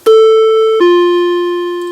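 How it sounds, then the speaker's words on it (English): NuTone IA28 intercom chime module sounding a clean two-note doorbell ding-dong, the second lower tone ringing out and slowly decaying, loud and close with nothing else heard. "So we'll do a 2-note ring,"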